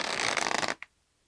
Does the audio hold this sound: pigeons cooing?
no